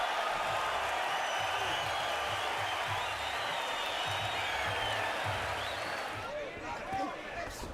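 A boxing arena crowd roars through a fierce Donaire versus Walters exchange, a loud continuous wash of cheering and clapping that stays full throughout and dips slightly near the end.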